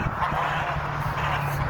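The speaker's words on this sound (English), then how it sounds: "Watch the geese." Flock of geese on a farm with over 300 birds, a dense, continuous clamor of overlapping honks close by, loud and unbroken for a couple of seconds.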